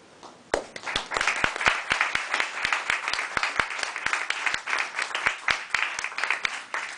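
Audience applause at an art café evening, starting abruptly and carrying on steadily with a few sharp, loud individual claps standing out above the dense patter.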